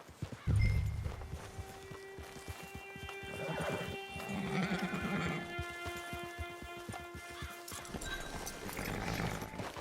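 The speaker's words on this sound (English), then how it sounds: "Get your horse." Horse neighing and clip-clopping hooves in the Red Dead Online game at a camp, a loud whinny up close at the start, then steady hoof steps with softer snorts over a low hum and game music.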